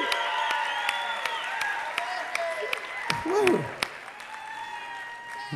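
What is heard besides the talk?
crowd applauding and cheering at dance show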